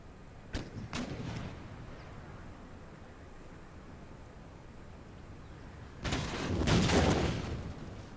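Cannon fire in Empire: Total War, a Napoleonic-era strategy game battle against a militia garrison near Tangier: two sharp booms early on, then a louder, rolling burst of blasts later over steady battlefield ambience.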